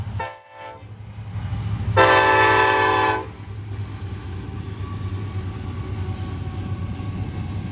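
A long, mostly empty freight train led by an SD70ACe with an AC44C6M trailing rumbles steadily nearby, with one loud horn blast of about a second rising over the continuous rolling noise.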